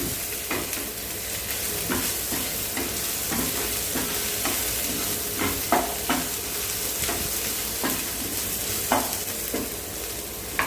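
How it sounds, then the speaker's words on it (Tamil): Crushed garlic sautés in a hot pan for an idli masala, giving a constant sizzle broken by regular scraping stirs and light clicks of a spoon, close and with no speech. "பூண்டு வந்து கொஞ்சம் நச்சு வச்சுருக்கேன் அதோடு சேர்ந்து நல்லா வதங்கி வரட்டும்"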